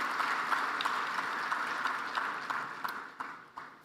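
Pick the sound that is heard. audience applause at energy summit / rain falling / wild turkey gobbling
audience applause at energy summit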